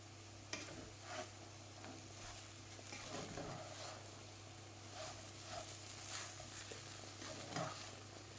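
Potato samosa filling cooks in a pan while crushed coriander seeds are stirred in, giving a faint, low sizzle with soft intermittent scrapes and taps of the spoon, close but quiet.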